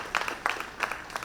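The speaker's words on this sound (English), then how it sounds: "Give yourself a round of applause too." Faint, scattered claps from a lecture audience, a handful of separate hand claps spaced out over a moment rather than a full round.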